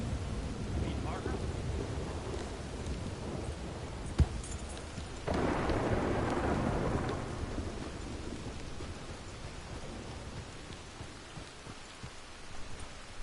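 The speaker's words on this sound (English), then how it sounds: "Pretty brutal storm, right?" Thunderstorm in Red Dead Redemption 2, steady rain hissing throughout with a sharp thunder crack and a swelling rumble partway through, and a voice speaking.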